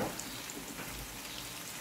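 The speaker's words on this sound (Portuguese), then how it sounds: "o fígado você não precisa deixar ele ficar fritando muito tempo também não" Pieces of beef liver frying in a pan give off a soft, steady sizzle with light crackles and pops throughout, close and fairly quiet, with no talking.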